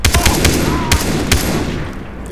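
Rapid gunfire in the video game Far Cry 3, with several sharp bursts of shots close and loud over a busy game soundscape.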